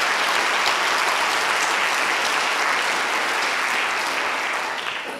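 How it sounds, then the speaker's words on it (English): Loud, dense applause from a keynote audience at a leadership summit, continuous clapping for about five seconds that fades slightly toward the end, with no voices over it. "So you should really give a round of applause to Mary and Joan and Joe."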